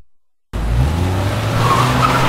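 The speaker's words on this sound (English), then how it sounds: "He gets into his car and takes off." A car takes off with tires squealing, bursting in after a brief silence as a loud, sustained skid and engine roar that holds steady, close and dominant to the end.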